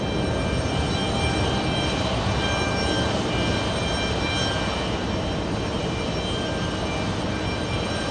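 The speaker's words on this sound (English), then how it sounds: "John K says C-17 taxiing for runway 22 right" A C-17 military transport jet taxis at JFK airport, its engine roar loud, broad and steady for the whole stretch, with no voices over it.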